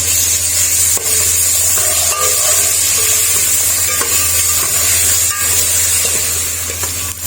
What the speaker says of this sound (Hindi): ऑयल गर्म हो गया, अब इसके अंदर हम पेस्ट ऐड कर देंगे।